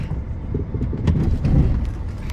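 A 2003 Chevy Silverado pickup driving in four-wheel drive, heard from inside the cab as a steady low engine and road rumble that swells slightly midway.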